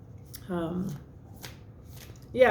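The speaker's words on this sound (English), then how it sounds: "we'll use the Wild Unknown Tarot here to lay out a basic spread of 4 cards" Wild Unknown Tarot cards are shuffled in a short riffling burst, brief papery rustles and snaps with a quiet room behind.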